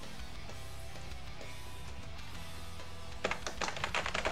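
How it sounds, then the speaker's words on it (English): Keystrokes on a computer keyboard as a system password is entered in a Linux terminal: a short, quick burst of clicky taps near the end, preceded by a low background hum. "I'm typing the wrong system password"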